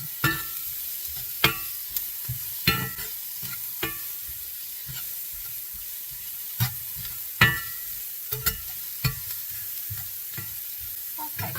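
Food sizzles steadily in a cast iron pan over medium-low heat, a soft continuous crackle broken by repeated scraping stir strokes, close and with no voices.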